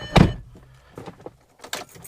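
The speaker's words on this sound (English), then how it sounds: "and close the door" A car door of a Volkswagen Golf Mk4 R32 slams with one loud thud, followed by quieter clicks and rustling inside the cabin.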